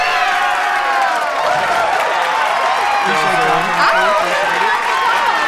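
A crowd cheers and applauds guests at a ladies' night event, a loud continuous wash of cheering and clapping with shrill voices rising over it and speech mixed in.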